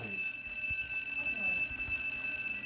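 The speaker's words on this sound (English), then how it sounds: "You don't hear that alarm going off?" Burglar alarm in the Roblox game Jailbreak, heard as a steady high electronic tone that holds continuously under low room noise and some faint background sounds.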